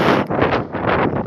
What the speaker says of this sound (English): Even though it's still windy